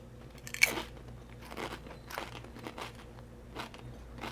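Tortilla chips crunched while eating salmon and dill ceviche, one sharp close bite followed by several quieter crunching chews at irregular intervals, faint and without talk.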